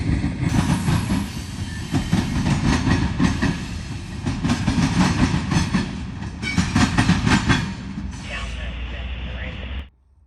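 Northbound freight train 277 rolls past close by in Central Ohio, its wheels clacking in a steady rhythm over the rails, then its sound shifts and cuts off abruptly near the end.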